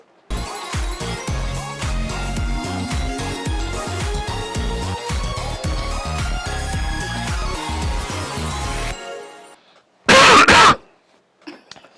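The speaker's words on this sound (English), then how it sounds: "What's Corona season without a cough?" Music plays for several seconds, cuts off, and then a single loud, harsh cough or throat-clearing bursts out close by, followed by a little rustle.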